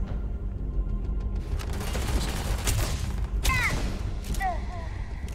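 Gunshots in the space RPG Starfield: a burst of impacts and a couple of sharp reports with ringing mechanical tails near the end, set against a dense rumbling game soundscape.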